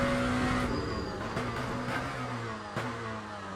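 Lamborghini SC63 LMDh race car in the Le Mans Ultimate racing game at COTA, a steady engine drone with shifting tonal pitch and a few brief gear-change blips, moderately loud without talk.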